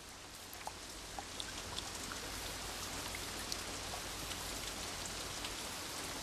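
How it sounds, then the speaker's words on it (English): Steady summer rainstorm, a dense, even hiss of rain falling on surfaces with scattered nearby drips and patters throughout, no voices. "To her, it's just another summer rainstorm."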